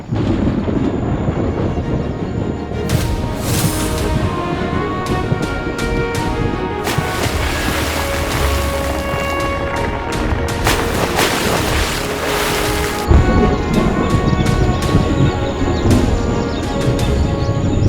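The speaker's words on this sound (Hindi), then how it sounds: "यही वो वक्त है तूफान का।" A cartoon thunderstorm with rain: a dense, loud, continuous roar of rain and wind broken by repeated crackling thunder claps and booms, with no voices.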